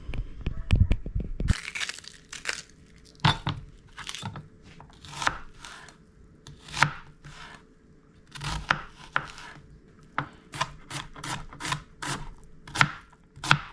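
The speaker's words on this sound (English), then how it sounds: "Dices it into nice small square pieces" Knife chopping and dicing ingredients into small square pieces on a cutting board while prepping a turtle soup, with quick bursts of sharp, close taps in uneven runs between pauses.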